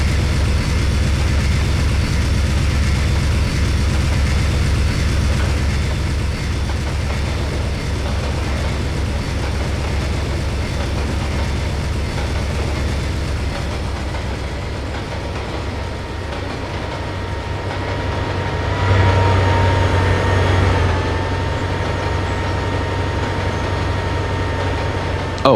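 A train in a railway video game hauls a 27-car consist with a steady, loud rumble and rolling rail noise that continues throughout. It eases slightly midway and swells again near the end.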